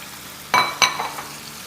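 Yogurt added to a sizzling pot of aloo gosht, two loud splashing hits followed by a short burst of frying hiss, close and with no talking.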